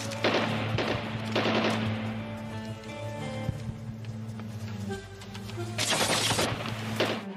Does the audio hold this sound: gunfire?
yes